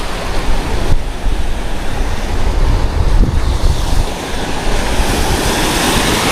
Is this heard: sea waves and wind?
yes